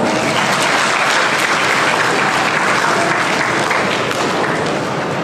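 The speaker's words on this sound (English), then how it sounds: "Give her a big round of applause." Audience at a convent school gathering breaks into steady, loud applause that fills the whole stretch without pause, dense clapping from many hands in a hall with no voices standing out.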